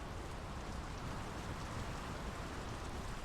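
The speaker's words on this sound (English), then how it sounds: "The rain's picking up." Steady rain in the video game Draugen, a dense even hiss that holds at constant strength throughout, with no voices.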